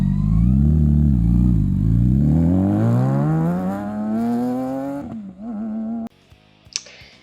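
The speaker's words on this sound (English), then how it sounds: "Then you got the BMW K1600." A BMW K1600 six-cylinder motorcycle engine revving up close, pitch climbing smoothly through a long throttle sweep before dropping off, followed by a brief mechanical clatter.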